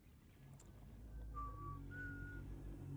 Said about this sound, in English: I don't know if my whistling picks up on my mic or not.